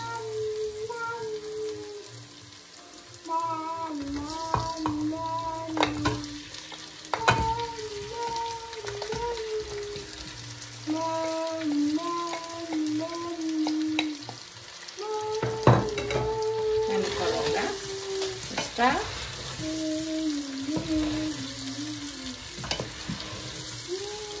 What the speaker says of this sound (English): I'm going now to add our meat.